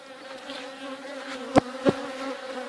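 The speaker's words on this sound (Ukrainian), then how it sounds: "Оце рій." A honeybee swarm buzzing at an apiary, a steady low hum of many bees with a couple of brief louder buzzes as individual bees fly close past.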